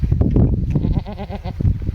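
Goat bleating loudly and close several times in quick succession, wavering calls against rustling background noise, with no speech.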